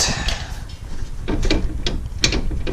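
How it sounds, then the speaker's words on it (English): A ratchet wrench works loose two 19mm suspension bolts while lowering springs go onto a BRZ/FRS/GT86, with rapid clicking pawl bursts and a few sharp metallic knocks close by, no talk. "Next we're gonna be removing these two 19mm bolts."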